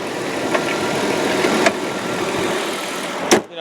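A 2001 Dodge Grand Caravan engine runs at a steady idle, close and even, with a few brief knocks or clicks and no talking.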